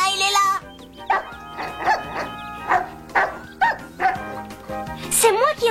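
A young cartoon puppy barks repeatedly in short, evenly spaced yips close by, with a brief whine at the start and end, alone without talk.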